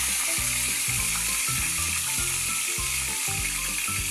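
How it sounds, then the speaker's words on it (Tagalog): Tilapia frying in hot oil, a steady, dense sizzle and crackle running throughout, close and moderately loud, with no voices. "Aantayin lang po natin na maluto ang ating pinipritong tilapia."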